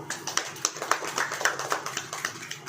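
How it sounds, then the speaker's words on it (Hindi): A church congregation at a Hindi-language sermon claps its hands steadily, a fairly even run of crisp, overlapping claps that carries on for a few seconds without speech over it. "अब ताली बजाइए"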